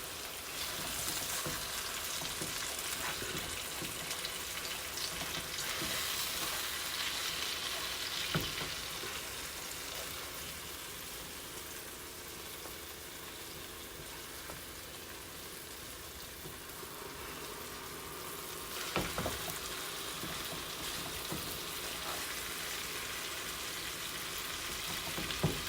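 Pork chops fry in a pan while being basted with wine and butter, giving a steady, close sizzle with occasional louder spatters and stirring clicks, no voices.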